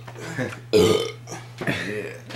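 A man lets out a loud, close burp during a casual conversation while drinking, with other people talking around it before and after.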